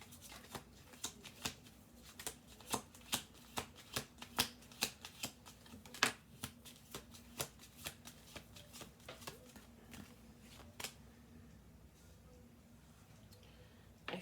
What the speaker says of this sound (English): Let's do one more shuffle through.